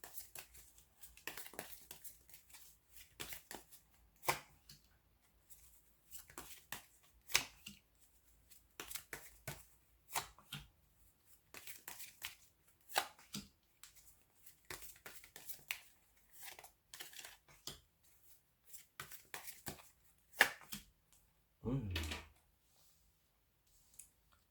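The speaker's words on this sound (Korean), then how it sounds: "추가적으로 제가 6장의 카드를 더 뽑도록" Tarot cards are shuffled and drawn from a deck in a series of soft, close snaps, slides and riffles coming in irregular bursts, with a louder rustle near the end and no talk.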